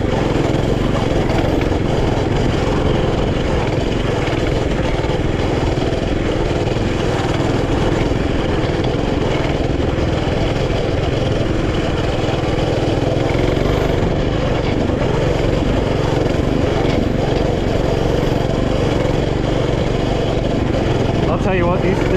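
A Coleman CT200U mini bike engine runs steadily on a dirt trail, a buzzy loud drone with wind noise throughout, and someone talks over it.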